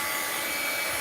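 A heat tool blows with a steady, loud whooshing roar while melting metallic shimmer crayon for mixed-media art journaling, with no talking.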